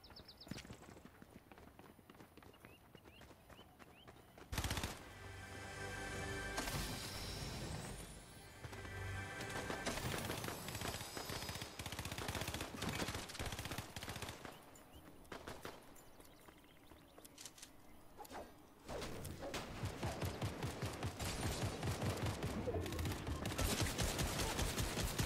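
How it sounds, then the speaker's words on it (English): Gunfire in the video game Fortnite crackles in rapid, sharp bursts that start abruptly and keep returning in clustered volleys, mostly quiet in the mix. "Stop shooting at me!"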